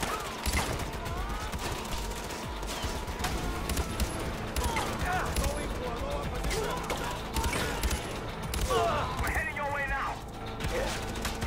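Enemy gunfire in Far Cry 4 aimed at the player, rapid bursts of shots and clattering mechanical sounds running densely throughout, with game effects layered in.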